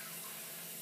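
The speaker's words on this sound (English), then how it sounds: "There's nothing like having a gentle warm spray of hot water" Warm water sprays from a bidet toilet in a steady, faint hiss, short and even, with no talking.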